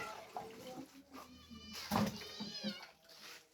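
A cat meows softly a few times in a quiet kitchen where sardine curry is being made Idukki style, with one clearer meow in the middle and some light water and clatter sounds.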